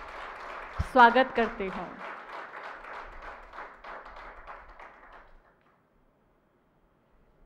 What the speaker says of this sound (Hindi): मैं एक बार फिर से ज़ोरदार तालियों के साथ उन्हें स्टेज पर आमंत्रित करती हूँ